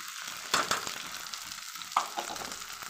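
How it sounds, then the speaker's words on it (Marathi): Okra and tomato stir-frying in a pan, a steady soft sizzle with two sharper clinks of a spatula stirring, close and fairly quiet with no voices. "एवढं याला मी असं परतून घेते."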